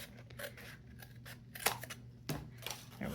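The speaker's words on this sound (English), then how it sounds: "So I'm going to go ahead and trim it." Scissors trimming paper for an accordion-bound book made with Graphic 45 Charmed Collection paper, giving a few close, crisp snips and slicing cuts over a faint room hum, with no talking.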